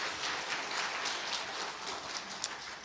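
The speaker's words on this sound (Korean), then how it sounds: "큰 박수 좀 부탁드리겠습니다." Church congregation applauding after a sermon introduction, a dense, steady wash of many hands clapping at moderate distance, continuous throughout with no voices over it.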